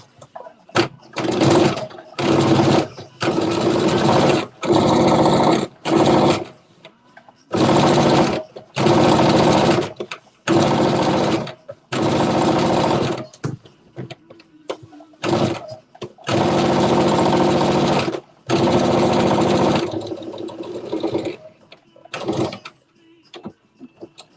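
Sewing machine stitching fabric for a Simplicity Mimi G. Styles S9463 garment, running in loud sustained bursts of several seconds each, separated by short pauses, close and alone.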